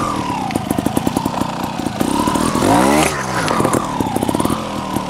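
A TRRS One RR trial motorcycle sits close by with a crackling single-cylinder idle, then throttle blips rise and fall sharply as it climbs a step.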